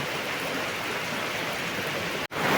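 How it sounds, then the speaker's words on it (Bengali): Heavy rain falls in a loud, unbroken roar during the first storm of the year, with a brief dropout near the end and no voices. "তো বন্ধুরা দেখো প্রচুর জোরে বৃষ্টি এসে গেছে।"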